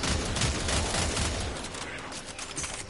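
Dense, sustained gunfire from the Warframe video game, rapid overlapping shots rolling on loud and close for the whole stretch and easing slightly toward the end.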